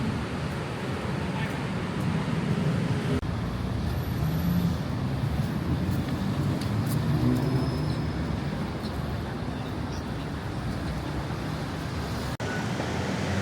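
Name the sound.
car traffic on Bangkok street at night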